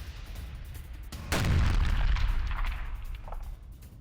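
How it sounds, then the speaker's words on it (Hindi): Artillery bombardment pounding a Russian-occupied area in wartime: a loud, deep explosion bursts in after a short stretch of background rumble, then fades into a long rolling boom. No voices can be heard. "यूक्रेन की स्पेशल फोर्स की भीषण बमबारी।"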